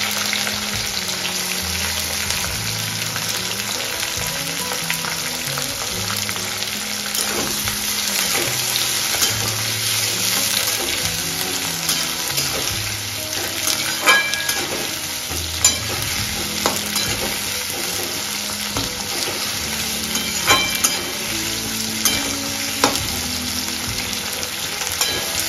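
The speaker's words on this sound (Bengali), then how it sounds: "পেঁয়াজটা আমি লো টু মিডিয়ামে ভাজবো।" Three medium onions fry over low to medium heat in a pan of oil with cardamom, cloves, cinnamon and bay leaf for mutton kosha, giving a steady close sizzle with intermittent stirring scrapes and no talking.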